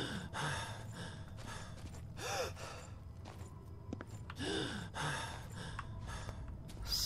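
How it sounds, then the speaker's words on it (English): Heavy, exaggerated breathing from a player character in the video game Oblivion, repeated sighing and gasping breaths in a steady cycle, close and fairly quiet over faint game ambience. "he's breathing so ridiculously"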